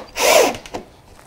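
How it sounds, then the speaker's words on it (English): A power drill whirs in one short burst while driving a screw into a jumbo masking tape roll dispenser, followed by a couple of faint knocks. "I'm just having trouble drilling the screws in with the holes the way that I had put them"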